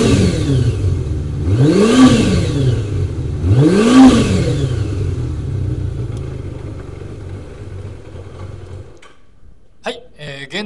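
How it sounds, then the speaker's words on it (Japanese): Close Kawasaki Zephyr χ motorcycle exhaust: two sharp revs a couple of seconds apart over a steady idle, then the engine drops away and someone speaks. "はい、マフラーいきます。"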